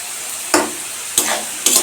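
Potatoes stir-fry in a pan with three sharp scraping stirs against a low sizzle, close and loud, with no voices.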